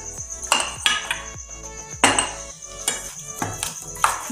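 Spoon clinking and tapping against a bowl in quick irregular strokes as mashed potatoes are mixed with chili powder, turmeric and salt for aloo tikki.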